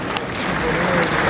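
Loud, steady applause from a ceremony audience honoring a former president of India with religious leaders present, a dense wash of clapping that swells slightly and continues throughout.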